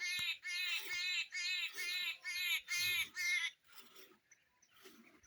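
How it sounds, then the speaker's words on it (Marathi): At dawn in a village, a bird calls in a quick series of about eight loud, close, harmonic chirps. Softer, scattered chirping follows. "तेव्हा पाखरांचा किलबिलाट चालूच आहे."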